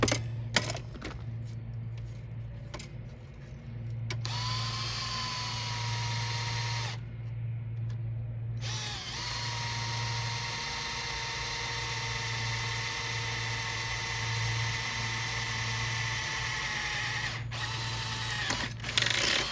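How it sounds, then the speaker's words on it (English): A drill bores holes in the metal control panel of a Sinistar arcade cabinet, whining steadily at close range with a low motor hum, broken by brief pauses and the bit catching at moments. "If you see me tilting the drill a little bit, that's because I went off center a little bit"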